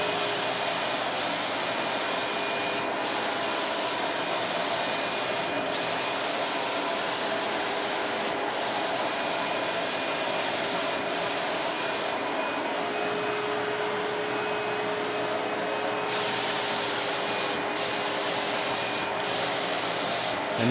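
Paint sprayer applying coats to cabinet doors gives a close, steady hiss broken by short regular pauses every few seconds between passes, with no talking.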